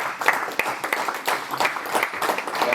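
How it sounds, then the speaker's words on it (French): Audience applause at the close of a conference discussion on the energy sector, a dense patter of clapping at moderate level, fairly steady over a couple of seconds with no voices on top. "On peut vous applaudir."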